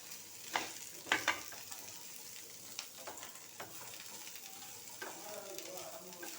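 Ingredients for a fish sambar fry and get stirred in a pan, with a soft steady sizzle broken by a few sharp scrapes and clacks of the spoon, fairly faint and close, without talk.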